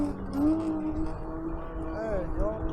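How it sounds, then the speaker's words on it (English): A scooter engine revs up as the throttle is opened, a steady motor drone rising in pitch with a couple of whining swells, close and moderately loud, with talking over it. "let me slightly touch the throttle"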